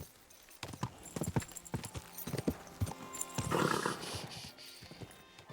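Rhythmic hoofbeats of a horse clip-clopping at speed in the video game Kingdom Come: Deliverance II, fairly close, with a brief whinny-like burst partway through.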